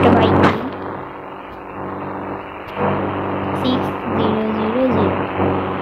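A car engine in the mobile game India Bikes Driving 3D drones steadily as a vehicle drives past, swelling louder toward the end, with a person talking over it throughout.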